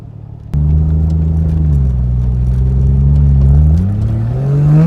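A Ford Fox Body car fitted with a Toyota 1JZ engine starts with a sudden loud burst, then pulls hard with a steady droning engine note that rises and dips as it changes gear. The sound is close and strong, with no voices.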